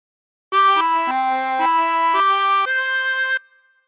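A chromatic harmonica plays the opening phrase of the Star Spangled Banner: six clear sustained notes stepping in pitch, close and loud, alone, ending in a brief fading tail.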